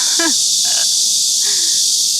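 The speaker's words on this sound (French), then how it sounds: "les grillons ne veulent pas que je parle" Crickets chirping outdoors near Namsan Tower, a loud steady high buzzing chorus filling the air, with a few brief tonal chirps standing out.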